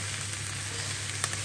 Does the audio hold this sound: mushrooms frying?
yes